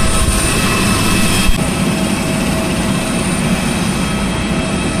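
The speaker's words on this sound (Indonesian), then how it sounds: "Ini ada pesawat US Air Force lagi landing di Halim." A US Air Force aircraft landing at Halim Perdana Kusuma airport in Jakarta, a steady loud broadband engine roar that holds throughout with a brief bump near the start and no talk.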